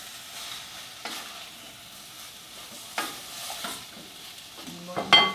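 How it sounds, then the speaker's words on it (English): Apples sautéing in a little butter over medium-low heat give a soft, steady sizzle with occasional scrapes of stirring, growing a bit louder with a few utensil clicks near the end. "I'm going to put just a little bit of butter and put the heat on medium-low and saute them for maybe 10 minutes"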